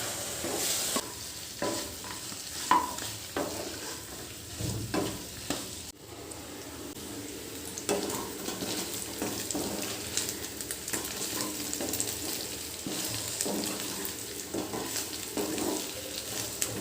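Pieces of chicken fry in a pan for a simple chicken fry, a low continuous sizzle broken by repeated scraping stirs and clatters of a spoon against the pan, with no voices.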